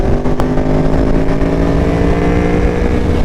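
Aprilia Tuono V4 1100 motorcycle rolling on the throttle in sixth gear, a loud, close, continuous engine drone with low rumbling pulses and steady tone, plus wind noise.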